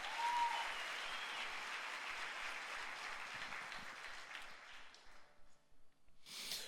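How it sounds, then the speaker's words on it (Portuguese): A church congregation applauds in a dense, sustained round of clapping, which thins out and fades toward the end before a brief final burst. "Dá uma salva de palmas àquele que vive."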